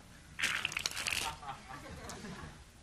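A quick riffle of playing cards cascading together, a crisp flurry of papery flutters for about a second, then fading into faint rustling.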